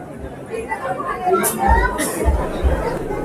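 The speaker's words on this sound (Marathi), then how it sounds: "भाविकांची खूप गर्दी आहे." A crowd of devotees at the Mhasoba temple during the Mhasa fair, a close murmur of mixed voices and chatter with shuffling and a few sharp hiss-like bursts.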